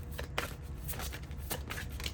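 Oracle cards are shuffled by hand in rapid papery riffles and flicks, close and fairly loud, with no speech.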